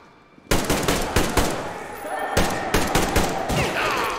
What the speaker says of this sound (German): Ich hau ihm 6 Schüsse mit der AK rein.